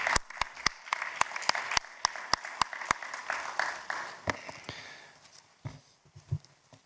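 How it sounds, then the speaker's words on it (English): Audience members at a conference forum clap for a keynote speaker, starting with sharp, evenly spaced claps that loosen into scattered, thinning applause and die away, fairly close and alone. "A big round of applause for His Excellency."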